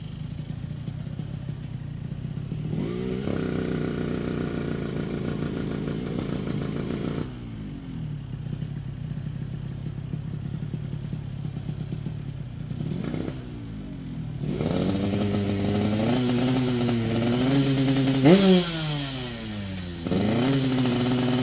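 Small racing motorcycles speed along a race track, engines buzzing and whining as they pass in waves, rising and falling in pitch with several bikes overlapping, loud and close under an announcer's commentary.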